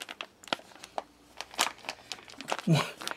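A 250-gram freeze-dried white rice pouch with tear notches crinkles and rustles in a few short bursts as it is handled, under a person talking nearby.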